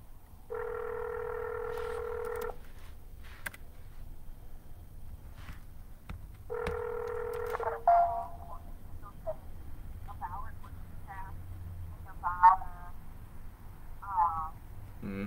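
Two long, steady telephone tones, each about two seconds, separated by a pause, followed by scattered short beeps and faint background chatter.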